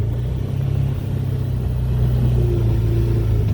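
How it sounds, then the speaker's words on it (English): A Can-Am off-road vehicle driving along on a country outing, its engine a steady low rumble close by with a slight rise in pitch partway through, no voices. "We are checking out a Can-Am, going for a little ride."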